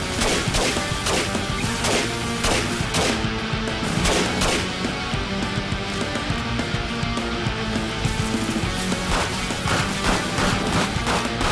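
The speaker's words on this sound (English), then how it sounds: "I can kind of just blindly fire down here and kill them because they're so bottlenecked" Gunfire in the 7 Days To Die survival game (Alpha 21) fired blindly down into a bottleneck of enemies, a steady run of loud, closely spaced shots and impacts with no pauses throughout.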